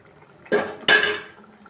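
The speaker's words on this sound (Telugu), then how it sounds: "ఇలా తొకతొకలాడుతూ ఆయిల్ పైకి వస్తే ఏ కూరైనా ఉడికినట్టు అర్థం" Thick dried fish and brinjal curry bubbling in a pot as oil rises to the top, giving two quick soft plopping bursts close by, then quiet.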